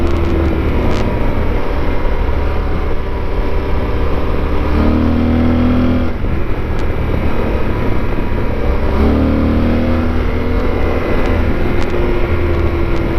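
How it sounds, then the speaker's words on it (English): Yamaha Super Tenere motorcycle engine braking on a twisty road, a loud steady engine drone with shifting tones as revs fall and rise, continuous and close throughout with no talk. "See, the engine braking definitely helps this bike because it slows it down and you don't have to rely on the brakes."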